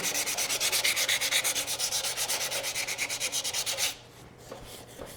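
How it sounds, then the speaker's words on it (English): Sandpaper scrubs rust off a metal equipment part in quick back-and-forth strokes, a rhythmic rasping close by with about two strokes per second, stopping abruptly near the end followed by a few faint knocks. "See if we can take some of the rust off. Little sandpaper."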